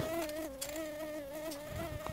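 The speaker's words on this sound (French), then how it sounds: "Putain, il y a des moustiques." Close, high-pitched mosquito whine drones steadily throughout, a thin wavering tone with overtones, slightly fluctuating in pitch, with faint background clatter and no talk.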